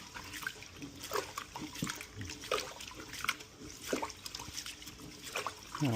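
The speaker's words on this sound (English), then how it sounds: "I'm gonna wash it with warm water here." Running warm water splashing and trickling as brown rice is rinsed by hand, with irregular sloshing bursts throughout.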